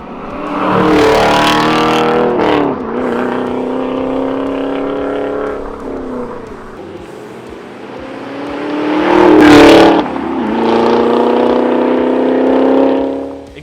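A 2016-2023 Chevrolet Camaro's aftermarket exhaust revving repeatedly, deep rumbling idle rising into loud throaty surges and falling back, close up.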